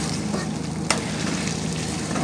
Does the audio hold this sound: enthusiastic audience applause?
no